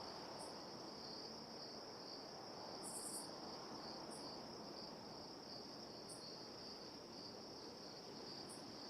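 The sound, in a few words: crickets chirping, ambient sound in video game Tower Simulator 3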